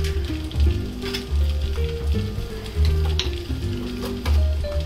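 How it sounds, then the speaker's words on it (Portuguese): Bacon sizzles in a pan with olive oil and butter while a potato filling is prepared, making a close, steady frying hiss with rhythmic low scraping or stirring pulses. "eu vou colocar um pouquinho de bacon por baixo aqui"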